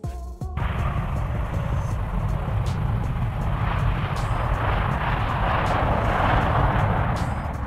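Airbus A330-900neo airliner, heard as a loud sustained jet engine roar that swells steadily after a brief abrupt start, with a broad rushing noise and faint ticking clicks above.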